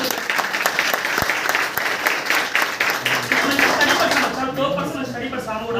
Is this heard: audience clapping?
yes